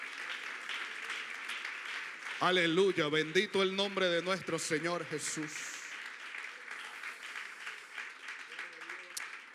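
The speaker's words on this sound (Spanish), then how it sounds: "No sé si puede darle un aplauso al Señor en esta hora." A church congregation applauds, a steady wash of clapping running the whole length, growing louder and denser midway while someone speaks over it.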